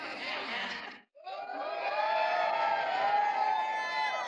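A stand-up comedy audience cheers and shouts, then after a brief drop to near silence breaks into a long, rising wave of excited crowd cheering and whooping, loud and sustained.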